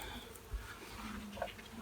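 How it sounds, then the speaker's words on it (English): Honeybees from a weak colony clustered in a hive before winter give off a faint, steady low hum, with no voices over it. "there is still a ball of bees in there"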